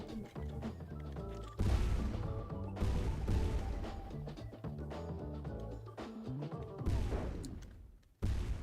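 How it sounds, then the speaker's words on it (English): Explosions and crashes from a Mario Golf video game played on a stream, repeated booming bursts and impacts over game music and effects. "God, all these explosions."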